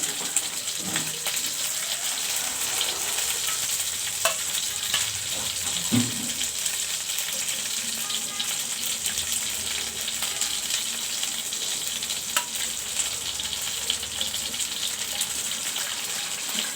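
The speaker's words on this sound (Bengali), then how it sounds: "তো মাছগুলো তেলে ভাজা হয়ে গেল" Tilapia fish sizzle in hot oil with a steady, moderately loud frying hiss broken by a few sharp pops and crackles, heard alone throughout.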